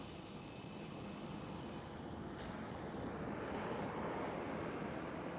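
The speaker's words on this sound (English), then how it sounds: "Vueling taking off from runway 24." A Vueling airliner taking off from runway 24 at Schiphol, Amsterdam, heard as a distant, faint, steady engine roar with broadband rumble that holds throughout.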